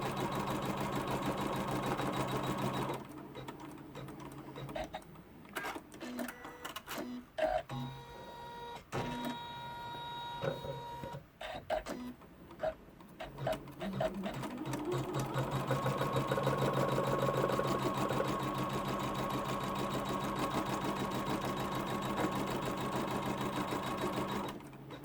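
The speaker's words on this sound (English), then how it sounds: "what I'm going to do is stitch out the first colorway" An embroidery machine stitches the first colour of an in-the-hoop notebook cover: rapid, continuous mechanical chattering, close and steady, broken by short pauses and stop-start bursts midway before resuming.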